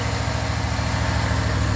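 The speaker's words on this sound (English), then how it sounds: "With the motor running" A 2019 Dodge Ram's engine idles smoothly, giving off a steady, loud low rumble with an even pulsing hum that runs unchanged and close throughout, with no voices.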